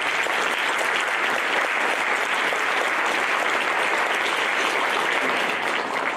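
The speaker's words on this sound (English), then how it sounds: "round of applause for that" A high school concert audience claps in a dense, sustained wave of applause that stays loud and even from start to finish, with no speech over it.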